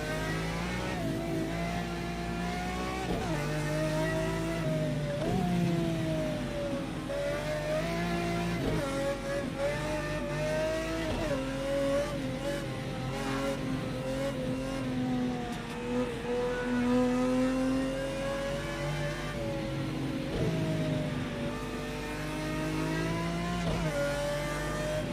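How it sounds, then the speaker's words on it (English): A car engine revving on a wet drive, with repeated climbs in pitch through the gears, each rise ending in a drop at the shift, steady and fairly close throughout. "I don't know what this car sounds like to you guys"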